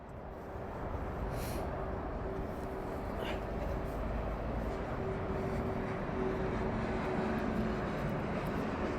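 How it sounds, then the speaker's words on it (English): A Boeing 747 jumbo jet rolling down the runway for takeoff at London Heathrow, a distant, steady engine roar that builds slowly and stays faint and even throughout, with no talk. "your jumbo is now on the roll. Yep, it's on the runway. It's now going."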